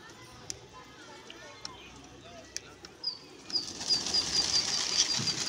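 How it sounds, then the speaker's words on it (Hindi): A pigeon's wings clatter sharply a few times, then it takes off into a steady flurry of flapping, with faint chirps in the background, during pigeon flying in Lucknow. "ये देखिए फिर उड़ा कबूतर"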